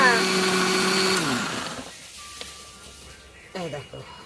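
A mixer grinder grinds spice paste for a desi chicken curry, its loud motor whine running steadily before spinning down and fading out, followed by someone briefly talking.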